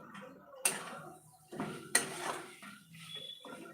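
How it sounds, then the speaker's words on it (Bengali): Egg dhoka gravy stirred and sautéed in a pan, giving a few sharp utensil clinks and scrapes against the pan at uneven intervals, close and moderately quiet, with no talking. "তো আমি কষাচ্ছি দেখো"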